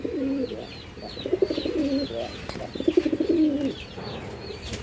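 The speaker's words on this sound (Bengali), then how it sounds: "ভাই এটা হলো চাইনিজ আউল কবুতর" Pigeons coo in a cage at a pigeon farm, including Chinese owl and short-faced birds: repeated soft, rolling coos come in several close phrases, with a few higher chirps over a steady background.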